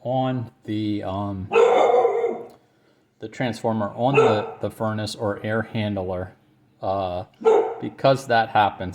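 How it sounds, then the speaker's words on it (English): A pet dog barks in the background of a room while someone talks steadily about thermostat wiring, short sharp barks mixed in with his speech and partly masked by it. "Excuse my dog barking in the background."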